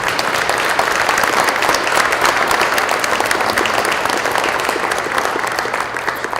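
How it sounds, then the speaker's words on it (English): A banquet hall audience applauds high school basketball coaches in loud, continuous clapping that holds steady throughout and fades only slightly at the end. "May we recognize them with our applause, please."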